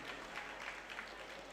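An audience at a Jain monk's sermon claps, a steady, even patter of many hands at moderate distance with no voices over it.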